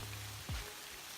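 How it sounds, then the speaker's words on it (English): Rain falls steadily during a hike on the Appalachian Trail, a dense even hiss of drops close around, with a brief low thump partway through. "more rain walking"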